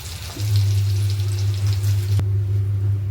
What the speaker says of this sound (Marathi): आपण आता तेल तापायला ठेवलेलं आहे त्याच्यामध्ये मिरच्या टाकणार आहोत